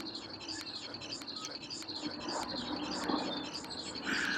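Faint bird chirps repeating in a steady pulse, looped through an audio effect, over a soft washy background.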